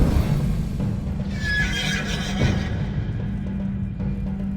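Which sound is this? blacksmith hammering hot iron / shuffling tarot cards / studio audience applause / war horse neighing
war horse neighing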